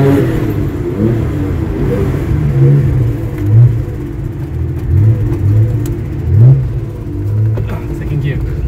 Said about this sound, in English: Second gear.